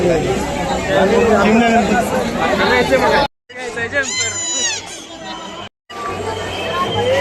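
Dense crowd chatter at the Ganpati festival in Pune, with many voices babbling close by and a few higher shouts. Two brief cuts leave the hubbub silent before it returns at steady loudness.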